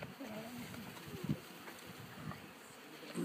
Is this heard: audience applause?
no